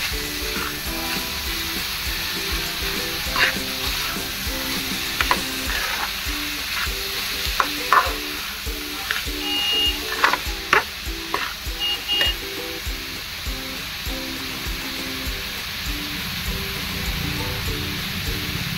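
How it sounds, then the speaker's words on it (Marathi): Grated bottle gourd is stirred in a hot pan while it fries. A steady sizzle runs throughout, and a spoon scrapes the pan in repeated strokes close by, with no one speaking. "किसलेला भोपळा टाकू. आणि हे चांगलं मिक्स करून घेऊ."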